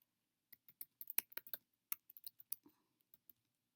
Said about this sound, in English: Let's type in another one.